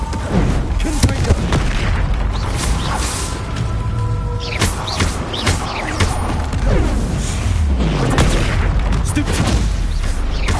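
A Confringo explosion spell cast in a Harry Potter video game, loud booming blasts and crashing bursts layered over busy game effects, repeated in quick succession throughout.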